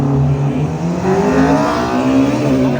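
Drag race cars in a Class C pairing at G1 Raceway accelerate hard, their engines roaring loud and close in a steady, continuous drone with rising revs that carries through the whole stretch.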